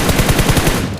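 Rapid automatic gunfire from PUBG Mobile, a single burst of about eight quick shots in an even rhythm lasting under a second, loud and close with no talk over it.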